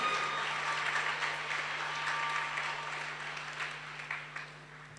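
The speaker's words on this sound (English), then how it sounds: "Can you celebrate Jesus Christ with a clap offering?" A church congregation gives a clap offering during a service, a dense, steady wash of applause from many hands that sounds fairly distant and holds for the whole stretch before easing slightly near the end.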